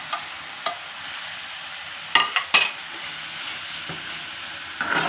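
Boiled noodles being stirred into spiced vegetables in a hot pan, a steady low sizzle of frying with a few sharp scrapes and clatters of the utensil against the pan, close and alone.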